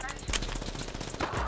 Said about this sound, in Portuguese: Tá dando tiro aí, mano.